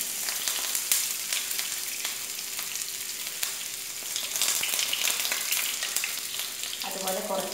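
Tempering ingredients frying in coconut oil for a potato dish, a constant crackling sizzle with sharp pops spread throughout, fairly quiet but close, with a brief clatter near the end and no voices.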